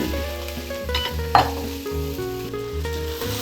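Carrots and potatoes are stir-fried in a pan for pumpkin soup, with close, lively sizzling and scraping as the pieces are tossed and a brief metallic clink midway, all over steady background music.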